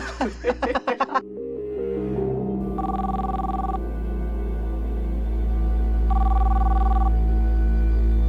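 A telephone ring tone sounds in two steady bursts a few seconds apart, over a low background hum, after a few brief tones at the start.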